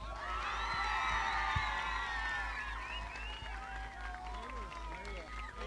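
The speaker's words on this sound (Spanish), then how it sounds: "Claro, aplausos para Sofi." A live studio audience at a televised talent show cheers and whoops, with high whistles and shouts swelling at first and then thinning out, under a background hum.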